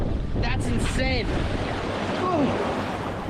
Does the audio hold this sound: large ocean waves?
yes